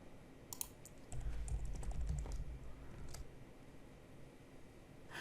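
Keys clatter on a computer keyboard as an email address is entered, a short burst of quick soft taps with a few sharper clicks, close and quiet over a low background hum.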